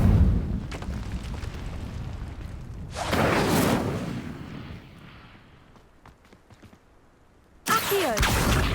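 Incendio fire spell cast in Hogwarts Legacy, heard as whooshing, roaring bursts of flame: one swelling blast in the middle, then a quieter stretch, then a sudden loud burst near the end.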